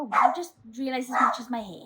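A dog barks and yips a few times in a home crafting space, the sharp calls overlapping with someone talking close to the microphone.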